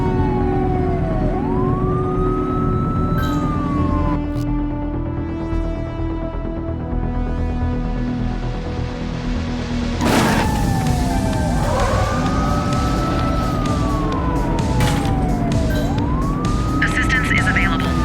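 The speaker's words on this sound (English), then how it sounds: "Looks like we're in for a police pursuit." Police sirens from The Precinct wail in a pursuit, their rising and falling tones cycling loudly over engine noise. A second siren joins midway, and voices from the radio and a newscaster talk over them.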